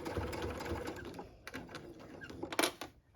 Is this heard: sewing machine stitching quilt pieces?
yes